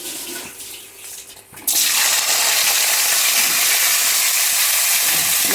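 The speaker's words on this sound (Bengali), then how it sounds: "এখন আমি গাজরটাকে ভাজবো।" Carrots drop into hot oil in a pan for a restaurant-style paneer and peas curry, setting off a sudden loud, steady sizzle that holds evenly after a quieter start.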